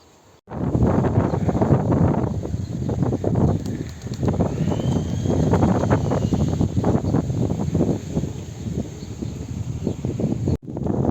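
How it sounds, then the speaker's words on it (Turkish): Steady, loud wind buffeting the microphone throughout, with rustling and gusting noise and a brief drop near the end. "rüzgar hayvanı tutuyor sürüklüyor"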